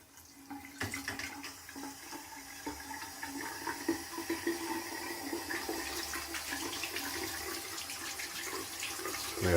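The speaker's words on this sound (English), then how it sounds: "We have running water." Water running from a tap in a tiny house, a steady rushing, splashing flow that builds slightly over several seconds, fairly quiet and close with no talking.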